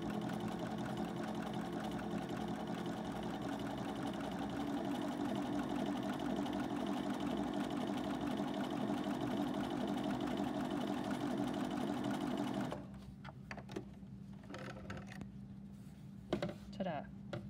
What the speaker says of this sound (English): we're going to sew this down at 1/8 of an inch